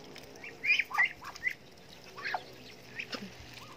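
Muscovy ducks quack and murmur softly in short, scattered calls over a low background hum, moderately close.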